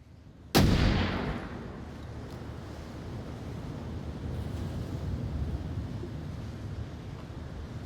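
Flashbang grenade bursting in a tactical shooter match, one sharp loud crack followed by a long roaring wash of noise that settles into a steady rumble.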